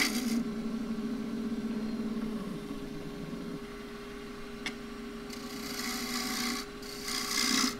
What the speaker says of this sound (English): So use the small spindle gouge